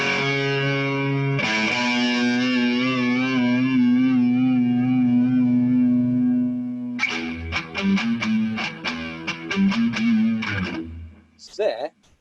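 Distorted electric guitar plays the outro solo: a long sustained, effects-heavy bent note, then a rapid run of picked staccato notes, loud and close, with no talking.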